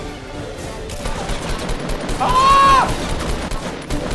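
Shotgun blasts and rapid gunfire ring out in the video game Fortnite, loud and dense throughout, while a player cries out mid-fight.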